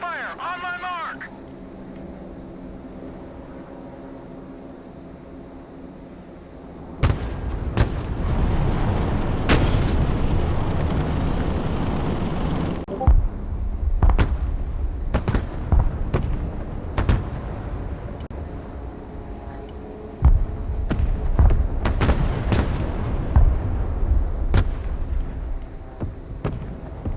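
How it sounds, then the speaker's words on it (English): Artillery and direct-fire explosions in the war video game Broken Arrow: a steady low rumble gives way to a dense run of loud, sharp booms and cracks, with voice lines over the battle. "Direct fire engagement. Direct fire on my mark."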